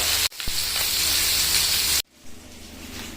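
Fish frying in a pan outdoors at night on a fishing trip, a loud close hissing sizzle with a brief sharp pop early on, cutting off abruptly to a quiet background.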